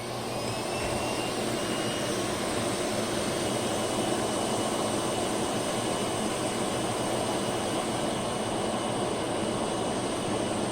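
A Miele Jazz S7280 vacuum cleaner runs with its brush roll off, cleaning curtains, giving a steady, loud, unbroken whirring drone from start to finish.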